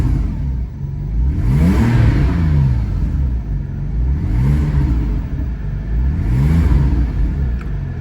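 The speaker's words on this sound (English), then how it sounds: "It's a very healthy sounding engine indeed." A 2010 Porsche 997.2 Turbo engine revs up and settles back three times in a steady rhythm, close and loud, deck lid open, with a deep rumbling idle between the rises.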